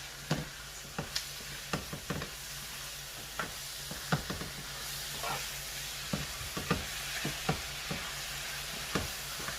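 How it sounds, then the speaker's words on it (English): Jamaican curry chicken sizzles and fries in a pot while a spoon stirs it, with a steady hiss under repeated close scraping and clanking strokes against the pot at an irregular pace. "And I'm going to give this a good stir."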